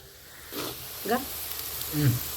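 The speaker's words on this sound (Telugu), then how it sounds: "క్యాప్సికము క్యారెట్ అయితే నూనెలో బాగా మగ్గేవే" Capsicum and carrot sizzle softly in hot oil in a home kitchen pan, a quiet steady frying hiss with a few faint stirring knocks and brief voice-like sounds in between.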